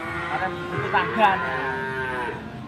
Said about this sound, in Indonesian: sapi mu bak bengok lo?